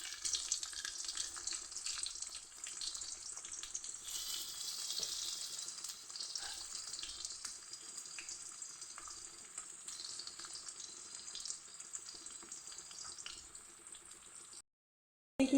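Boiled potatoes tossed into hot oil with popping mustard seeds in a home kitchen pan, giving a steady, close hiss and sizzle that runs almost unbroken before cutting out near the end.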